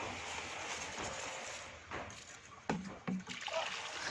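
Water sloshing and trickling in a bin as marcot root balls are soaked, with soft splashes and dribbles growing louder toward the end, close and fairly quiet.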